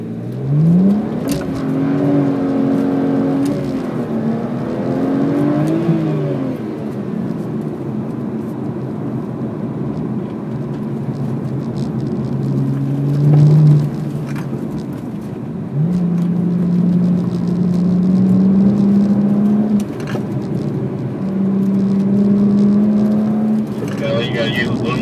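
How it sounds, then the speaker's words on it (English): BMW 1M driven hard on a track at a performance driving school, engine revving up through gears with rising pitch sweeps and steady roar, loud and close, with occasional voices over it. "Accelerate hard when I tell you to go"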